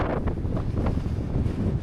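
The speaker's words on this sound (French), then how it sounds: "Il y a du vent, il fait froid" Wind blowing across the slope of a crater on Mount Etna, a dull continuous rumble buffeting the microphone at steady strength, with no voices.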